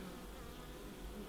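Honeybees buzz steadily at a hive in winter, a dense continuous hum of many insects, close and unbroken, with no voices.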